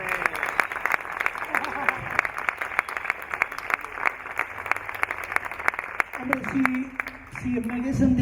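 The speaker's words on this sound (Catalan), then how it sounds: "vos demano un aplaudiment per ell" An audience at an awards ceremony claps for Toni Verger, scattered and uneven rather than full, with a voice speaking over the last couple of seconds.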